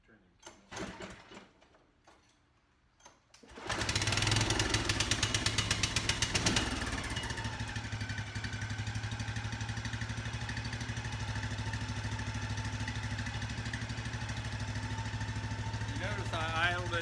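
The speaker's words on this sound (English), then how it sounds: "Never rev a cold engine. Always idle it down, especially after changing the oil." A Snapper lawn mower engine, fresh from an oil change, is pulled and sputters before catching at about four seconds, then runs loud and steady and settles into an even idle.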